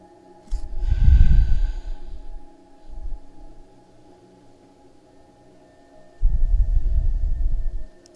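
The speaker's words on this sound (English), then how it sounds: "we're going to take 2 more deep breaths" Slow, deep breaths during a yoga class, with two long breathy exhales close to the microphone, a faint shorter breath between them and quiet pauses in between.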